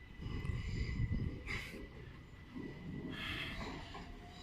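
A departing train at Bushey station on the West Coast Main Line, bound for Watford Junction, rumbles steadily nearby with low wheel and motor noise, and two short bursts of high metallic flange squeal rise over it.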